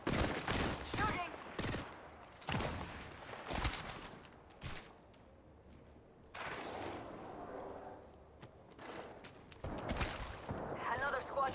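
Gunfire in a video game battle: sharp, separate shots and short bursts arrive at uneven intervals, some close and loud and others softer. A quieter stretch of rumble sits between them.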